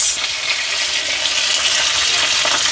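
Potato slices frying in hot oil with curry leaves, a loud, close, steady hiss and crackle of sizzling that carries through the whole stretch, with an occasional stir.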